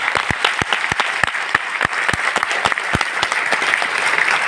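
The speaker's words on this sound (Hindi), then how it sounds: "तालियां।" An audience at a DXN business seminar on Ganoderma claps together, giving a steady, dense round of applause with crisp individual claps standing out across the clip and no talking.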